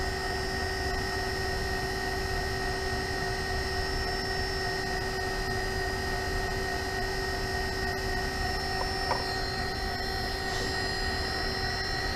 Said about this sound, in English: if I adjust my speed, you can see that the frequency of my speed controller changes as I change my throttle.